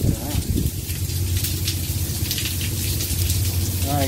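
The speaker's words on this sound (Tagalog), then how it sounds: "Kasi ulan na naman ang ulan." Rain falls steadily outdoors during a prenup photo shoot at Las Casas, Bataan, a dense, hissing patter that continues throughout beneath a low hum and scattered voices.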